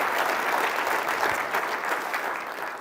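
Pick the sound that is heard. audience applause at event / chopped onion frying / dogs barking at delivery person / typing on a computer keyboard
audience applause at event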